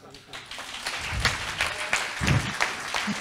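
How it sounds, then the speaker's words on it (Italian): Scattered, uneven clapping at a plenary meeting, moderately close, with a few louder thumps and a murmur of voices underneath. "l'applauso non era richiesto"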